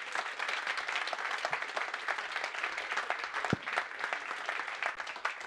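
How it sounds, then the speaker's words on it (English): A conference audience applauds after a session of lightning talks, with dense, sustained clapping from a large crowd filling the room evenly for several seconds. "Can I please get a round of applause for every single person who came up and gave a lightning talk here today?"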